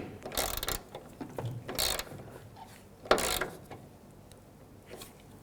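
A ratchet snugs the original bolt through a tailgate damper bracket on a 2008-2010 Ford F-250, heard as several short bursts of close clicking separated by pauses, with no talking.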